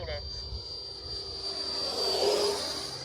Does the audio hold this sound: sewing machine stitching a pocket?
no